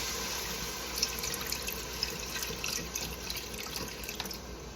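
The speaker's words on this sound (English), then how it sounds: "I'm going to put my some stock in here. Pour it in here." Stock poured from a 4-cup container into a pot of broccoli cheddar soup, a steady close liquid splashing and trickling with small drips, running alone throughout.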